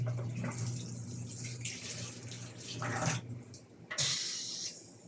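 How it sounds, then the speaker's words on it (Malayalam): Hot water gushes steadily from a pipe in a home kitchen, a close, hissing flow that cuts off briefly before splashing back in for a final burst. "പൈപ്പിൽ വരുന്ന വെള്ളം ചൂടാണ്"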